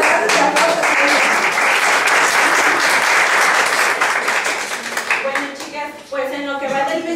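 An audience at a Spanish-speaking women directors' meeting bursts into loud, sustained applause with cheers mixed in. The clapping thins out after about five seconds as voices take over.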